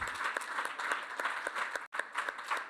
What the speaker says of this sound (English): Let's give a round of applause to the Thrive 2030